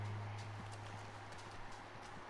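Faint, steady clip-clop of horse hooves at a walking pace in Red Dead Redemption 2, soft and distant under a low background hum.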